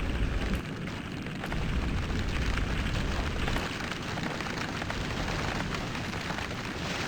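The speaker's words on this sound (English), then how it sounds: "Now we shall watch this thing burn." A ship burns in Floating Sandbox, a loud continuous roar of fire with a dense rumbling wash and occasional faint pops, steady and close throughout.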